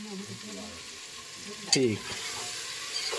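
A vegetable curry cooks in a village kitchen with a soft, continuous sizzle and some stirring, broken midway by a short metallic clatter. A brief spoken word comes in near the start.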